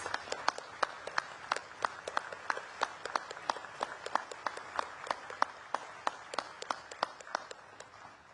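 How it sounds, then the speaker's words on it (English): An audience applauds veterans' national leadership at a Veterans Day ceremony at Arlington, with sparse, distinct claps ringing out steadily from a moderately distant crowd, no voices over them. "please join me in recognizing our veterans' national leadership with your applause"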